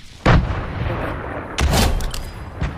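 Grenades explode in a video game as three booming blasts, one near the start, one around the middle and a smaller one at the end, each with a rumbling tail.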